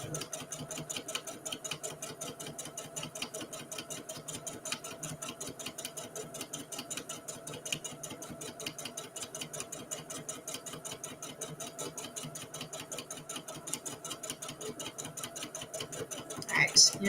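A sewing machine quilting a Christmas tree table runner, its needle running in a fast, steady mechanical rattle for the whole stretch, fairly close, with a brief louder clunk right at the end as the stitching stops.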